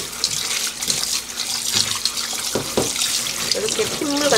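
Tap water runs over thawed, sliced duck meat being rinsed in a sink. A close, steady splashing stream continues throughout, with light handling knocks mixed in.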